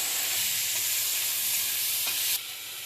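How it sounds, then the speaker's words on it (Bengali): Small shrimp fry in hot oil with a dense, even sizzle up close, plus a few soft stirring taps, until the frying noise suddenly drops away near the end. "আমি এই তেলে চিংড়ি মাছগুলো ভেজে নিচ্ছি"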